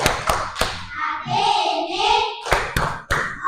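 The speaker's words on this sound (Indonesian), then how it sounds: "yang terakhir, tepuk terima kasih." Classroom thank-you clapping routine, sharp rhythmic hand claps in short bursts from children, with a chanted voice running through the middle between the claps.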